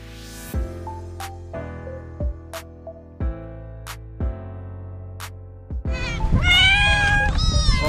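Background music with steady beats plays, then a cat meows several times in quick succession, close and fairly loud over the music, at feeding time.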